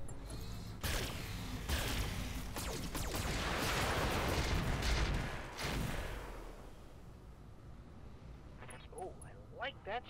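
Mech weapons fire in the video game Roguetech: a dense, loud barrage of booming shots and explosions rolls over several seconds, then fades into quieter sporadic effects, with a voice talking throughout.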